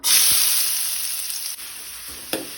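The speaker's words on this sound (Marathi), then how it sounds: "तेल तापले तशें तातून हांव 1 कांदो बारीक शिनून घालता" Finely chopped onion dropped into two spoons of hot oil in a pan on a gas stove, giving a loud, steady, bright sizzle that slowly eases, with a few small clicks and a brief crackle near the end.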